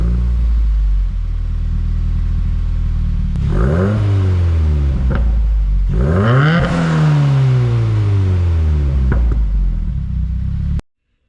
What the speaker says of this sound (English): If I'm just sitting there in neutral and revving it